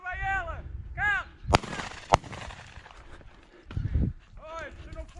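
Two sharp, loud shotgun blasts ring out close by during a partridge hunt in the Alentejo countryside, with men calling out between the shots and footsteps and bustle following them.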